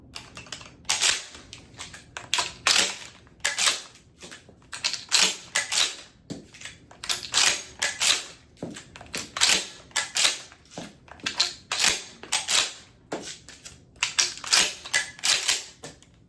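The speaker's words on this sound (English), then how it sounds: "defeat the safety, bang, bring the forend back, port load, and then shoot" A Maverick shotgun is worked over and over in a dry-fire drill, with the safety pushed, the trigger clicked and the pump forend racked back and forth. Sharp metallic clacks and slides repeat in an irregular rhythm, close and with no talk.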